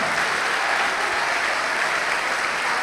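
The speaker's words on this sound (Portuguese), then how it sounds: "A melhor salva de palmas que já se ouviu em todo o Brasil e em toda a terra." A church congregation claps in loud, dense, continuous applause, many hands close by merging into a steady roar with no pauses.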